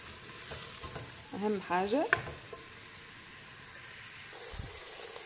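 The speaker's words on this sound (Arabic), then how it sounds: "حطيت كيما تشوفوا البصل هكا يتقلى، لازم هكا نقليه مليح لين يذبل معايا" Onion frying in a pan for Tunisian lamb mermez, a steady close sizzle throughout with a brief spoken remark partway in.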